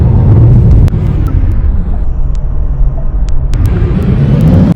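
A car rolls along the road, heard as a loud, continuous cabin rumble with a deep low drone and scattered light clicks and ticks.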